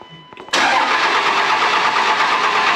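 A Cummins diesel engine that was bought at an impound turns over: a few faint clicks, then a loud, sustained, steady cranking roar that fills the rest of the clip close by.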